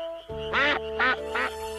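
A cartoon duck gives three distinct, nasal quacks in quick succession over a steady background tone. They are close and loud, with no speech.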